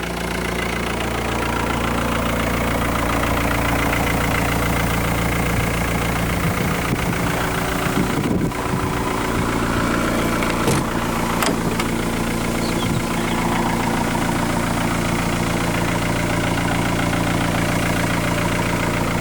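A classic Polish Polski Fiat 125p or similar vintage car, restored, with its engine idling steadily up close, a continuous low rumble with a few brief clanks in the middle.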